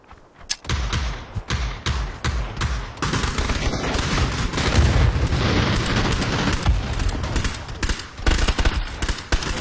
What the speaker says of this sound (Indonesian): Orang menembak tu.